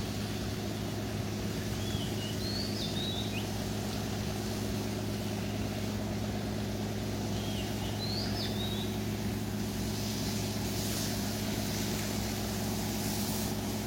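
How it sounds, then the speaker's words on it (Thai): Steady low engine drone of a boat passing on a river in Pathum Thani, Thailand, in the morning, continuous and even throughout, with a few bird chirps above. "เรือน้อยลอยผ่าน"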